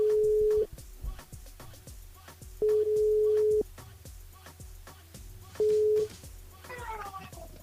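A telephone ringback tone sounds while a radio show calls a listener: three steady, loud tone pulses separated by pauses, with faint background talk and a voice beginning near the end.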